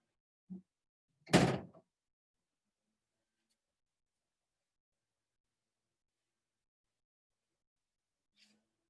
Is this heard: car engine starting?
no